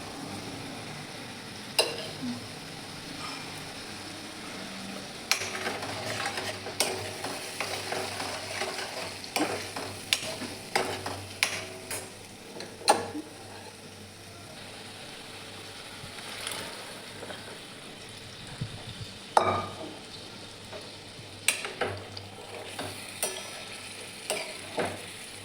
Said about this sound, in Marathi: आता शिजवून घेतलेली चवळी पण टाकून घेते.